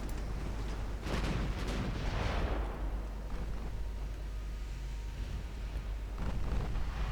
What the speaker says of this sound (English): Let's see what the Ireland class can do with her 12-inch guns